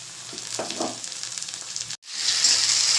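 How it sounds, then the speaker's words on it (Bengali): Chopped tomato goes into hot oil with fried potato and onion; a steady sizzle breaks off for a moment, then returns as a louder, brighter hiss. "এবার আমি কিছুটা পরিমাণে টমেটো কুচিয়ে নিয়েছি সেটা এবার তেলের মধ্যে দিয়ে দেব"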